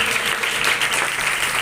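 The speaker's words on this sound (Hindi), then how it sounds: "खुदा के कलाम के लिए जोरदार तालियां" A church congregation applauds a sermon with brief, dense, loud clapping from many hands.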